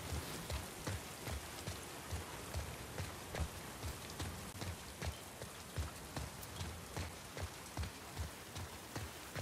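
Steady rain pours in a rainy Seattle setting in the video game The Last of Us Part II, a soft continuous patter with scattered heavier drops hitting surfaces, fairly quiet and with no voices.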